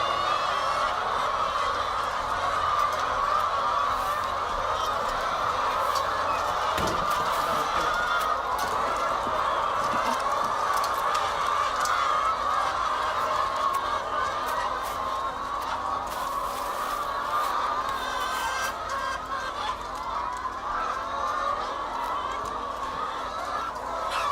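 Farm poultry, brown birds, raise a continuous dense chorus of honks and clucks, loud and close, with occasional sharper calls standing out across the whole stretch.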